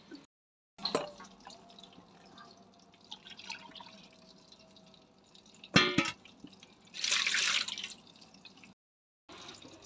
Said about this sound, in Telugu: ఇలాగా కొద్దిగా వాటర్ అయితే యాడ్ చేసేస్తాను.